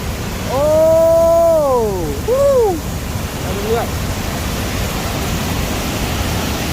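Tad Lo waterfall in Salavan, Laos, gives a steady rushing roar that fills the whole clip. A few brief tonal whistling calls rise and fall over it near the start.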